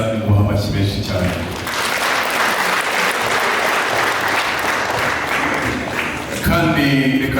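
Guests at a wedding burst into loud, dense applause that lasts several seconds; someone talks before it begins and again as it dies away.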